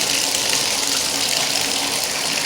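Water runs steadily from a Glacier Bay faucet turned to its hottest setting, a continuous close, even rushing flow with no talk over it.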